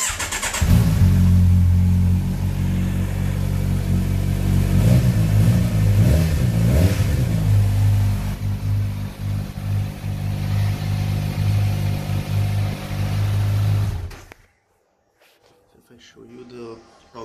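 A 2020 Kawasaki Ninja 1000 SX motorcycle engine fires up and idles loud and close, with a few sharp revs blipped early on, then runs steadily before cutting off abruptly into near silence.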